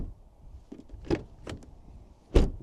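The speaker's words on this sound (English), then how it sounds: "The first is the sound of the door closing." Car doors on a Range Rover shut one after another, a few dull thuds with small latch clicks, the last one closest and loudest, with no voices.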